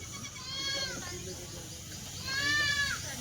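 Two wavering Kathiawadi goat bleats, one early and one near the end, close by with faint background noise between them.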